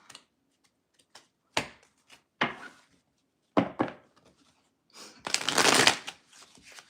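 Tarot cards being shuffled close by in several separate riffles and snaps, ending with a longer, louder flurry of cards.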